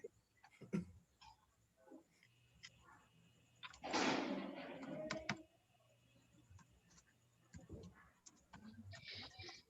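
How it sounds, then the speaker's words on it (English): Scattered clicks of typing on a computer keyboard during an online class, light and intermittent, with a louder burst of rustling noise midway and faint voices in the background. "I hear some typing"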